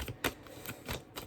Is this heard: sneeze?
no